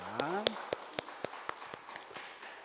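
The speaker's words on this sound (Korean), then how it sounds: "영광의 박수를 주님께 돌리십시다" Congregation applause in steady rhythmic claps, fairly loud, following a brief spoken phrase at the start.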